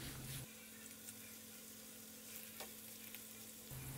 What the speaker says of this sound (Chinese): 下面我们把这块鹿肉两面煎制一下